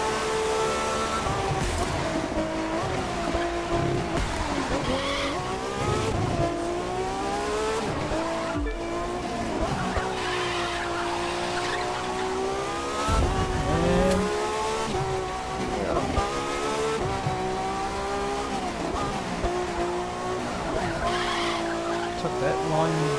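Racing car in The Crew 2, with an engine revving and shifting pitch throughout while tires squeal and skid repeatedly through the corners, close and loud, with a voice talking over parts of it.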